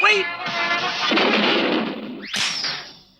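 A loud cartoon cannon blast booms and crashes, followed by a sharp burst and a rising whoosh, with voices talking over it.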